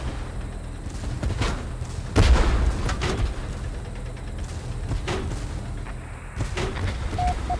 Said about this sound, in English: Under gunfire!